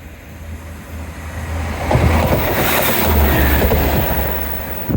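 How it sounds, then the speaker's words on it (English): A train rumbles past close by along a seawall, its roar swelling and holding steady with rhythmic rattling of the cars. "And a choo-choo train."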